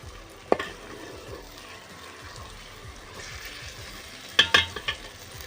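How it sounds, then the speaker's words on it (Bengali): Chicken pieces frying in hot oil and being stirred, a steady close sizzle broken by a few sharp scraping knocks of the spoon against the pan. "দিয়ে দিলাম চিকেনের টুকরোগুলো দিয়ে ভালো করে কষিয়ে নেব এবার"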